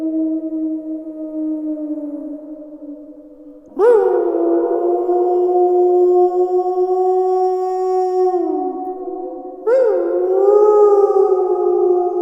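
Long, loud, drawn-out wolf-like howls sounding as a werewolf howling at the moon, two sustained wavering calls that rise sharply, hold and slowly bend in pitch, alone with no talk.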